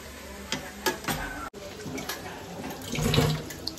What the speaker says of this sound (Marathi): मम्मी तर भांडी घासायचं काम करते।